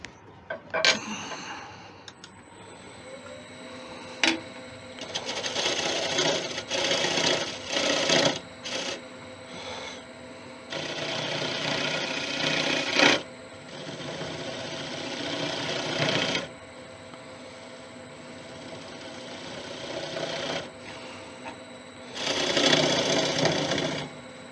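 Light cuts on a lathe into 5000-year-old bog oak, with a faint machine hum and bursts of soft rasping and scraping that come and go over about twenty-five seconds.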